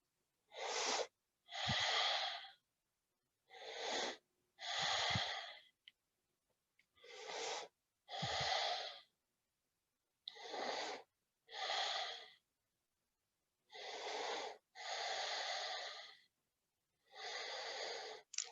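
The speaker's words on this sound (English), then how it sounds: "Try to smooth your breathing out, inhaling up and exhaling down." Strong rhythmic breaths during kundalini prayer-up exercises, paired sharp inhales and exhales repeating about every three seconds, close and loud with silent gaps between.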